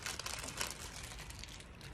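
Wax paper crinkles softly and continuously as a piece of salt water taffy is dropped onto it and rolled, a faint, close rustle with small crackles.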